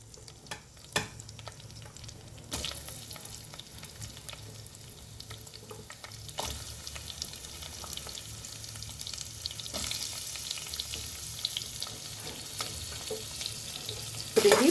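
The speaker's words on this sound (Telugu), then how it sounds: "ఇది బాగా ఫ్రై చేసుకోవాలి" Chopped onions fry in hot oil in a pan for ivy gourd curry, a continuous close sizzle with occasional spoon scrapes and stirring knocks that grows louder over time.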